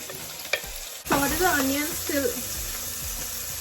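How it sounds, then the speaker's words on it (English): Chopped onions sauteing in a pan for white sauce pasta, a steady close sizzle with stirring scrapes. A voice speaks over part of the cooking. "So now we are going to saute these vegetables, and you can't see me, which is okay. First, the onions."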